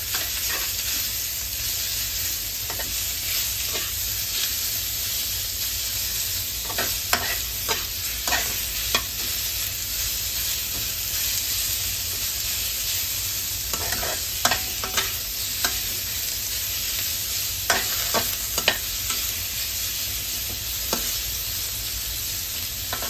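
Pork and cabbage stir-frying in plenty of oil in a home kitchen, a constant sizzle broken by repeated scraping and clattering strokes of the spatula, close and fairly loud.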